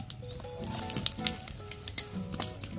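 Bay leaves, dried red chilies, whole garam masala and cumin sizzle in hot oil over a clay stove: a close, steady crackling fry with small pops and faint tonal background sounds, no talking.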